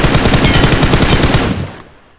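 A loud, rapid burst of machine gun spray in a shooter video game, close and continuous for about a second and a half before the firing stops and the echo quickly fades.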